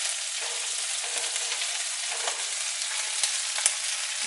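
Onions sizzle and crackle steadily in a hot pan, a dense, even frying hiss with small pops, continuous and close, no voices.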